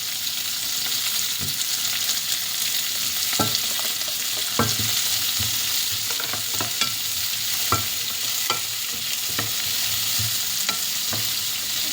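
Green chillies frying and sizzling in a pan for liver pepper fry, a steady broadband hiss throughout with sharp scraping stirs and clinks at irregular intervals, close and loud, no talk.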